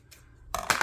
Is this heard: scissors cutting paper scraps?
yes